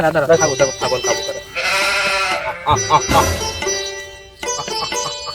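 A goat bleats loudly and nearby in a couple of drawn-out, wavering cries, with people talking excitedly around it.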